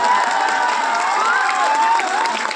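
A rally crowd cheering, with whoops and high shouting voices carried over a steady wash of clapping, loud and continuous throughout.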